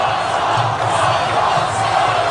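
A stadium crowd roars and cheers for Ron Paul, a dense, loud, sustained wall of voices with shouts and whoops rising out of it, continuous from start to finish with no single speaker audible.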